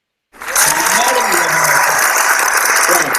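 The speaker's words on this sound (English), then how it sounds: "I was giving an applause for your generous discount" Webinar participant's applause for a discount offer, a dense, steady crackling wash that starts abruptly and holds loud and close through the whole stretch, with no talk over it.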